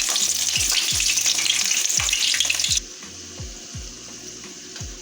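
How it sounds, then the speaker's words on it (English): Pepper and garlic frying in oil before fish goes into the pan, a loud hissing sizzle that cuts off abruptly partway through, with a series of regular low thumps running under it throughout. "we're going to start fry fish now, put in the pepper to burn and the garlic"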